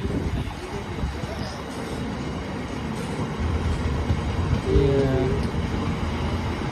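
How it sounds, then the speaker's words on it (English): A freight train rolls past at Ealing Broadway station, with a steady, loud rumble of wagons and a brief wheel squeal near the end. Faint voices sit under the noise. "And that's the end of the freight train."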